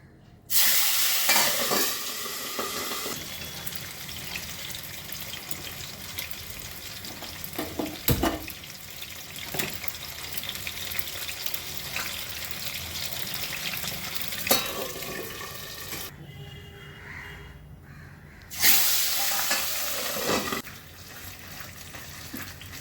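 Fish frying in hot oil in a covered pan, a continuous close sizzle with stirring and scraping, sometimes clattering as the lid is handled, and a brief rush of running tap water partway through, no talking.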